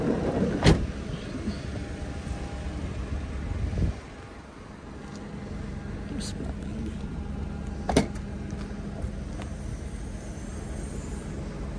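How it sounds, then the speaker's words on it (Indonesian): The sliding rear door of a new car in Japan moves open or shut with a dull mechanical rumble for a few seconds, then settles. Scattered clicks and a quiet cabin hum follow, with a voice faintly present. "Dan ini untuk pintunya, pintu geser."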